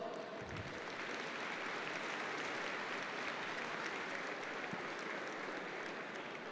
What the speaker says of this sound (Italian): Facciamoci un applauso!